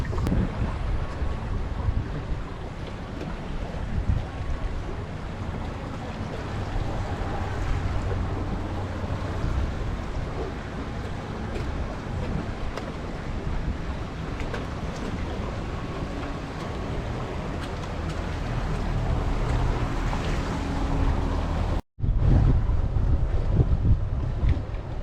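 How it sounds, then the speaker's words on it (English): Steady wind buffeting and low engine rumble with water noise as a pontoon boat passes along a canal, continuous and fairly loud, briefly cutting out near the end. "looks like a pontoon boat coming"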